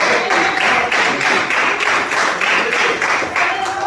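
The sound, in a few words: church congregation clapping loudly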